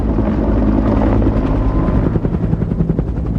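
Bell UH-1 Huey helicopter, loud and close, its rotor blades thumping in a steady rapid beat over a dense engine roar.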